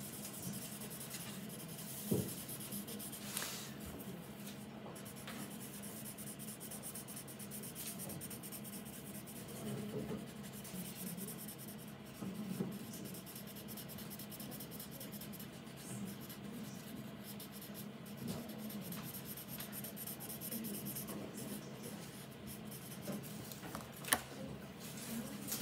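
Graphite pencil shading wrinkles on paper, blocking in gradient values: a steady, soft scratchy rubbing of lead across the sheet, continuous and close, with occasional sharper strokes and taps and no one talking.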